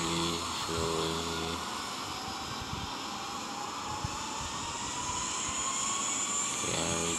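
Boeing 787-9 jet engines in the Infinite Flight simulator with throttle being reduced, a steady broad engine roar and whine holding constant, joined briefly by low tonal hum at the start and end.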